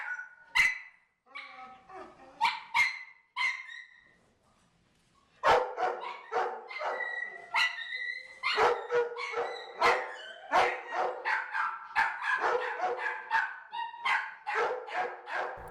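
A dog in a kennel barks repeatedly, sharp loud barks in bursts with a short pause, then a rapid flurry of barks and yips close by.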